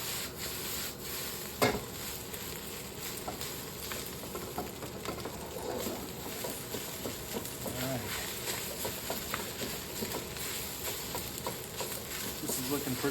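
Fried rice is stirred and pressed down with the flat of a spatula in a hot pan, giving a steady sizzle with scraping and tapping throughout and a sharp knock near the start.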